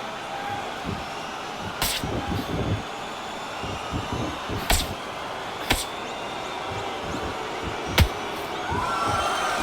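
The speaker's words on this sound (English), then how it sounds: "Really good buzz in the air tonight. This crowd waiting for something special." A fight arena crowd buzzes with a dense, continuous murmur before the bout, punctuated by a few sharp bangs or slams at intervals.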